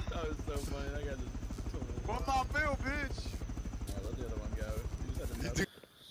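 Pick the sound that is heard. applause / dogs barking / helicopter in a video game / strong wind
helicopter in a video game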